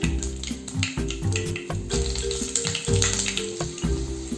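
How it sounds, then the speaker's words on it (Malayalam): Mustard seeds crackle and pop in hot coconut oil while tempering for a Kerala-style koottu curry, sharp irregular pops scattered over a steady sizzle, with a low tonal hum running underneath. "കടുക് പൊട്ടി വരുന്നുണ്ട്."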